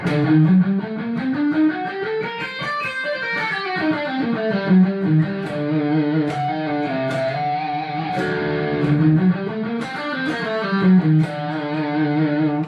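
An electric guitar with a slightly driven tone runs a continuous D Phrygian dominant scale up and down, notes flowing smoothly in an exotic, Middle Eastern-flavored pattern.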